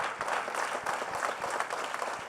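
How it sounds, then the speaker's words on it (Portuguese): A church congregation applauds steadily and loudly throughout, a dense wash of many hands clapping with no talk over it. "Dê um aplauso a Ele, mais forte que você puder."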